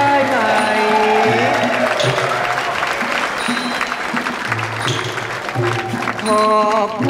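Steady applause from an audience fills the whole stretch, with a sustained musical tone underneath and some crowd noise.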